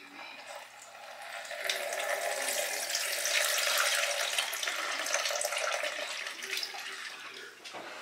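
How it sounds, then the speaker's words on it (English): Fresh goat milk from Nigerian Dwarf goats streams steadily through a copper coffee filter into a container, a continuous splashing trickle close by. "I'm just going to pour the milk in."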